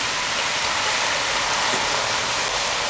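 Brandy pours into a hot pot of beef bourguignon, a steady loud hissing sizzle like heavy rain filling the whole stretch without pause.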